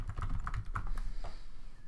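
Numbers are typed on a computer keyboard, a quick irregular series of close, soft key taps with no talking.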